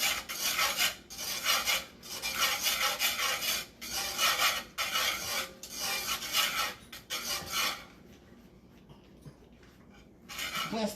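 Cheese being grated by hand in a home kitchen, with repeated close, rasping strokes in bursts separated by short pauses, then a quieter stretch near the end.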